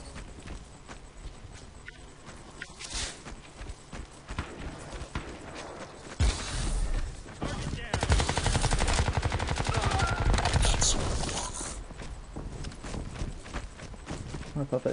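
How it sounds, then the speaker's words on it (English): Rapid bursts of automatic gunfire from the Crysis 2 video game, loud and dense in the second half, with sustained rattling shots over a busy game soundscape. "I thought that shooting was coming from down here."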